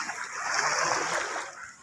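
Water churns and splashes continuously as a motorbike is pushed through a flooded street in Liaquatabad after heavy rain, a loud, close rush that swells and then eases off.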